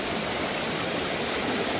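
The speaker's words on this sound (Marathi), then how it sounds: "नदीचं पाणी अगदी झुलझुल झुलझुल वाहत आहे" A village river flows in a loud, steady rush of water, close by, with no break and no voices.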